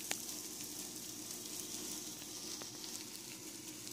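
Chicken tinga sauce sizzles and spits as it fries in a hot skillet, a steady close crackling hiss running throughout with no one talking.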